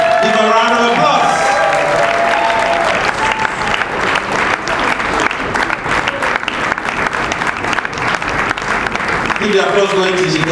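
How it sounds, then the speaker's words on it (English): Audience at the Lagos International Theatre Festival applauds loudly and steadily as a performer is called to the stage, dense continuous clapping with voices over the start and end. "Give a round of applause."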